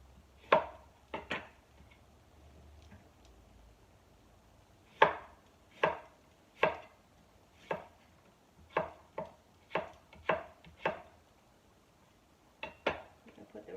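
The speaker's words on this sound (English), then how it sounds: "And then I'm going to cut another radish." A knife chops a radish on a cutting board in a home kitchen: a dozen sharp, crisp knocks in irregular clusters, close and clear against a quiet room.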